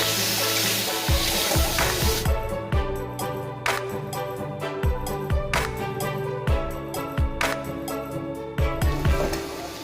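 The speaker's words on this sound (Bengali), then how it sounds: "এবার পনিরগুলো দিয়ে দিচ্ছি। পনিরগুলো হালকা করে ভেজে নেব।" Paneer pieces sizzle and fry in melted butter in a pan, a steady loud hiss broken by repeated clinks and scrapes of a spatula stirring.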